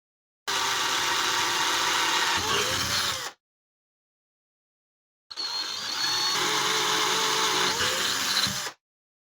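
An electric drill boring holes for a switch in a motion-sensor lamp housing, running in two long bursts of steady whirring with a rising pitch near the end of each, separated by a few seconds of silence.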